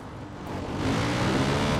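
A car in Far Cry 5 drives past, a steady engine rumble and road noise that swells as it approaches and stays loud to the end.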